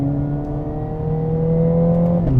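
A Mercedes-AMG CLA 45 S in race mode sends out a loud, steady engine drone with climbing tonal whine, held close for a couple of seconds and ending in a brief surge, no speech.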